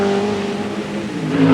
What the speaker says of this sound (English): So driving one-handed, he creeps back with the rest of the Ferrari.